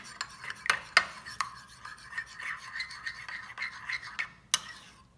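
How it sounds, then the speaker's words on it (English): A whisk stirs cinnamon into a mixture in a bowl while breakfast is being made, giving close, rapid scraping and rubbing strokes with a few sharper clinks against the bowl, and no talking. "I'm going to whisk that cinnamon in."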